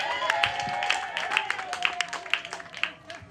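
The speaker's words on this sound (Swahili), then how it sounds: "Mpige Yesu makofi aje." A church congregation gives a lively round of applause during a sermon, with bright, sharp claps landing in a rough rhythm over a crowd murmur and steady background hum, moderately loud and close.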